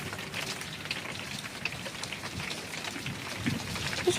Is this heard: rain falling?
yes